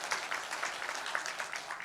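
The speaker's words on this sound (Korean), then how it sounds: "박수 한번 해주세요." A church congregation at a Sunday worship service claps together, a soft, even patter of many hands sounding somewhat distant and quiet for the whole stretch.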